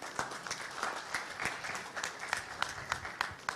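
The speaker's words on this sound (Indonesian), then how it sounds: "Tepuk tangan buat mereka." An audience at an Indonesian football announcement breaks into sustained applause, with dense, steady clapping and a few sharper individual claps standing out, a faint voice murmuring underneath.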